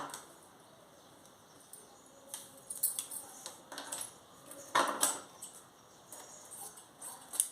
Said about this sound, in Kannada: ಈಗ ಬ್ಯಾಕ್ ಪಾರ್ಟ್ ಅಷ್ಟೇ ನಾನು ಕಟ್ ಮಾಡ್ಕೊತೀನಿ